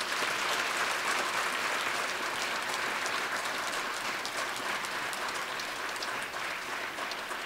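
A congregation claps together during a Wednesday church worship service, a thick, even wash of applause that holds steady throughout.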